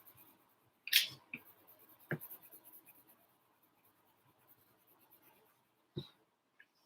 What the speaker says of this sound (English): now I'm going to get my brown color pencil again to do the soil